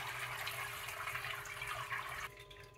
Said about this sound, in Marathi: मटार गरम पाण्यातून काढून घेतला की त्यावरती थंड पाणी घालायचं